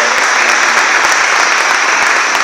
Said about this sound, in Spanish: pido un fuerte aplauso para don Jesús Romero Montalbán